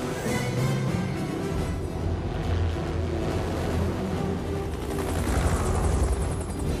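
A military helicopter from a movie flies by with a steady, dense rotor roar and chop that holds throughout, with no talk over it.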